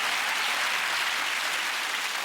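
Studio audience at a television interview show applauding steadily, a dense, even wash of clapping with no voices over it.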